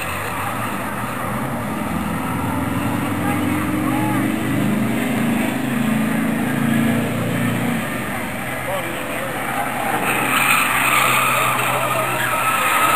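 Race cars and a truck run together on an oval short track, engines droning and roaring steadily at a distance, swelling as the pack passes, over a busy outdoor crowd background.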